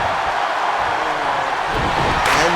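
A crowd in an arena roars and cheers at a wrestling match in the video game WWE 2K26, a dense, loud, continuous wash of noise with no talk over it.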